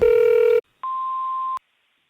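A telephone tone opens a call: a loud buzzy tone for about half a second, a short gap, then a clean, steadier beep lasting under a second, ending in silence.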